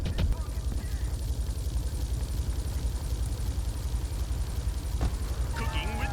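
A police helicopter in Grand Theft Auto 3, a steady low rotor drone held throughout at moderate loudness, with a couple of brief knocks and a faint warbling tone near the end.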